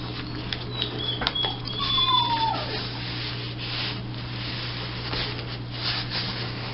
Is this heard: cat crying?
yes